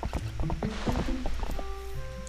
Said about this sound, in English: I'm just making my horse run into everything, aren't I?